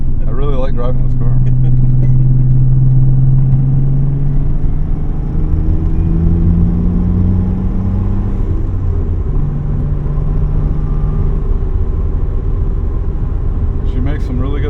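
A 1992 Dodge Stealth R/T with an internal bypass valve, heard from inside while driving: a loud, continuous engine drone whose pitch rises and falls through acceleration, with a voice talking over it.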